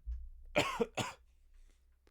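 Two sharp coughs in quick succession, close and fairly loud, followed by quiet room noise.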